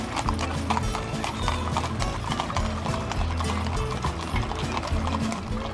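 Horses on a wagon train trek, hooves clip-clopping in a steady rhythmic beat, fairly close and loud, with wagon rattle and outdoor noise around them.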